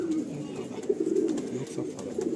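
An old Madrasi pigeon from a loft coos in low, throaty rolling phrases, close and fairly loud, with faint rustling behind and no talking.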